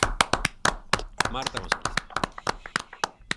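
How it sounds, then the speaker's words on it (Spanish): Audience clapping for a short-story contest winner at an emergencies-and-disasters themed awards event, sharp percussive claps in an uneven burst under a speaking voice. "Vamos a aplaudirla a ella entonces."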